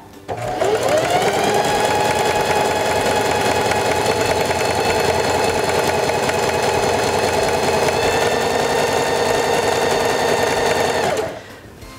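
A Heavy Duty 4411 sewing machine stitching fabric, a steady fast mechanical whir that starts abruptly, runs evenly and loud for about ten seconds, then stops.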